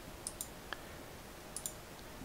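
Several faint, crisp computer mouse clicks sound in a quiet room, arriving in quick pairs with short gaps between them and no talking.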